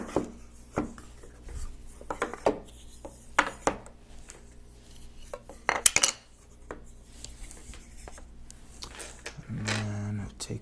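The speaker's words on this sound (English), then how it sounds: "So if I were to take apart the dice tray," Wooden Wyrmwood dice tray set being taken apart by hand, with scattered close knocks, scrapes and clacks of wood pieces, one louder clatter midway, under occasional quiet talk.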